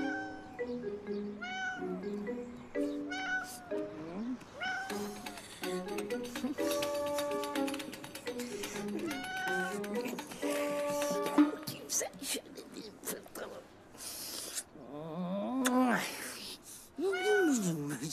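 A cat meows repeatedly in a cartoon scene, its rising and falling cries close and clear, mixed with animated character voices and background music.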